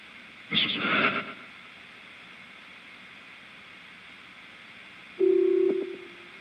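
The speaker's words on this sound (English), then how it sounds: "Did you hear the phone? Sounded like the phone was ringing." A telephone ringing faintly during a spirit box session: a short warbling burst near the start, then a steady electronic tone later on, both set against a quiet background hiss.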